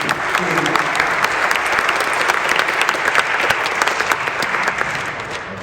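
Steady, dense applause from a church audience fills the whole stretch, many hands clapping at even loudness before easing slightly at the end.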